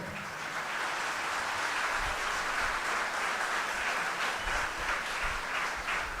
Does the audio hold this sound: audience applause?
yes